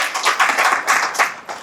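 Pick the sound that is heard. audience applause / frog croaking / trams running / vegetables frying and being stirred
audience applause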